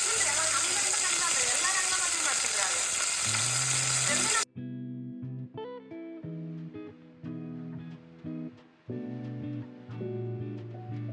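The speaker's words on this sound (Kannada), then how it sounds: "ಒಗ್ಗರಣೆ ಮಾಡಿ ಹಲಸಂದಿ ಕಾಳೆಲ್ಲ ಹಾಕಿ, ಉಪ್ಪು, ಅರಿಶಿನ ಪುಡಿ ಎಲ್ಲ ಹಾಕಿ ಬೇಯಿಸಬೇಕು" Spices being tempered and cowpeas frying in a pan give a loud, steady sizzle for about four seconds, then stop abruptly, followed by other sounds.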